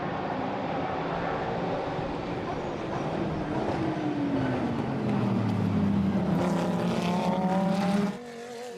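Race cars at the start of the SAE Kyalami 9 Hours roar in a dense, continuous pack, including a Ginetta and a Norma Nova, with engine pitch sweeping as they accelerate away and commentary over the din.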